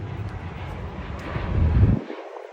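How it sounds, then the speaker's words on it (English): An airplane rumbles overhead during a night walk in downtown Toronto, a steady low roar with wind buffeting that swells briefly, then the low end drops away. "There's a plane right there."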